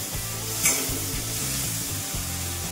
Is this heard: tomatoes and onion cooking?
yes